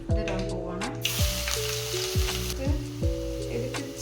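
Crushed ginger and garlic hit hot oil in a pan with fenugreek while cooking Kerala fish curry, giving a bright continuous sizzle with a few utensil clicks, close and steady.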